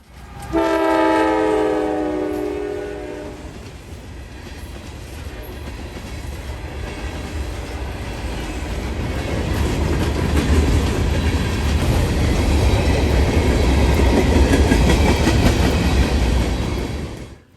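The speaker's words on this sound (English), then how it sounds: "behind the two locomotives are a string of Dakota, Minnesota, and Eastern covered hoppers" A freight train of Dakota, Minnesota and Eastern covered hoppers behind two locomotives passes: a loud horn blast opens, then a heavy, building rumble and rattle of cars rolling by close and steady to the end.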